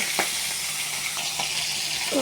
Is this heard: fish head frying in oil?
yes